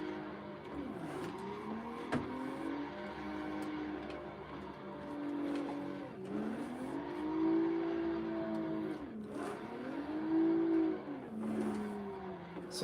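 A stock pink BMW M3 drifts in Assetto Corsa, its engine rising and falling in repeated revving sweeps with clutch kicks and tire squeal, steady and close throughout with no talking.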